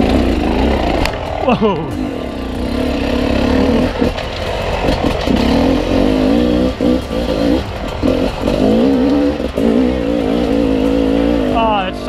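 Enduro dirt bike ridden in second gear on slippery ground, its two-stroke engine buzzing loudly and steadily with rising revs and throttle changes throughout, while a rider exclaims once briefly over the engine.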